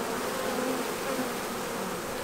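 A virgin honey bee swarm buzzing in a dense, continuous hum, close and steady, with no voices.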